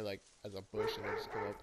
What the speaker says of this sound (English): Very loud dog.